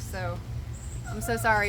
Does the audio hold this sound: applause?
no